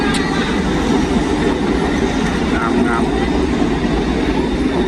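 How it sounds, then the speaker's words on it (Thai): A train runs along a railway in Thailand with a loud, steady rumble and roar throughout, while a person speaks over it. "รถไฟกันแล่นอยู่ตลอดเวลาไปมาสะดวกสบายทันใจ"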